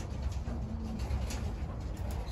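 Racing pigeons give soft, low cooing calls at a loft, faint and a little distant, set against a steady background hiss.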